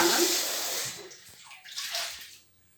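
Vegetables being washed in water, a close, splashing gush that swells, dips and swells again before trailing off into quiet, with no talk over it.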